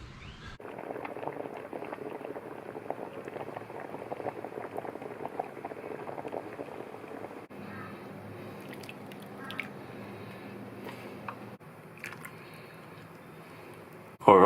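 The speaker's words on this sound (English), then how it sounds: "I'm just going to let them simmer until they all sort of start opening up." Mussels simmer under a lid in a spicy South Indian coconut curry broth, giving a steady soft bubbling hiss with faint drips that carries on alone, close and quiet, until a brief clatter at the end.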